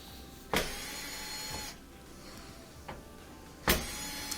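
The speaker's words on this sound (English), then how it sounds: "We're removing the top screws here that are holding on the front panel." A screwdriver, likely powered, backs the top screws out of a Frigidaire washer's front panel, giving three short whirring bursts with pauses between them, loud and close with no talking.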